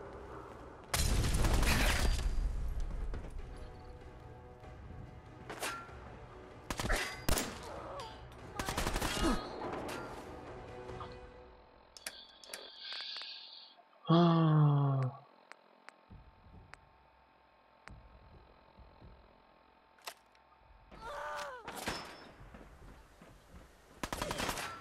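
Bursts of gunfire in the video game Fallout 4, rapid automatic volleys and single heavy shots, loud and close, with an electronic whine and pauses between.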